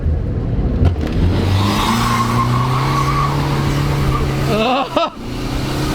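A BMW E30 fitted with a 530d diesel engine does a tire-burning launch, its engine roaring steadily up close as the tires squeal, while people talk over it.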